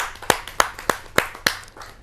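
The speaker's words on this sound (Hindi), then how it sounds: "आइए कुछ उनकी शिक्षाप्रद छंदों को सुनते हैं आप सबकी जोरदार तालियों से।" Five sharp, evenly spaced hand claps ring out close by at a Hindi poetry gathering, each a crisp isolated slap, with no crowd noise between them.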